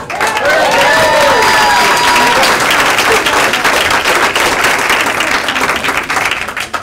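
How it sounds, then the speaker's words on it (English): An improv show crowd breaks into loud, sustained applause, with some cheers and whoops carrying over the clapping throughout. "A round of applause, everybody."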